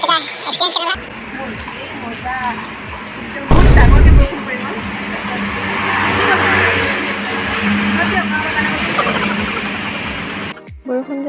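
A heavy downpour on a morning bike outing makes a dense, steady hiss that builds and holds, broken by a sudden loud thump, with a voice talking over it.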